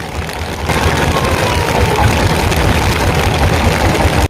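A trawler boat's engine runs loud and close in the rain near a ferry landing, a steady heavy chugging drone that holds unbroken before cutting off abruptly at the end.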